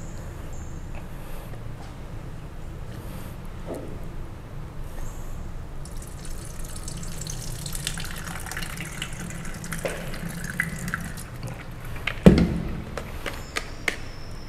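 Tempeh ingredients are washed under running tap water, giving a steady low wash of flowing water throughout, with a brief louder splash or knock near the end.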